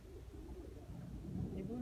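Pigeons coo softly in low, throaty calls, faint beneath someone speaking nearby.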